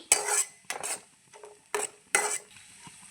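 Cashew nuts frying in a pan for semiya kesari: a few separate bursts of stirring and scraping over a faint steady sizzle, close and distinct, with no talk.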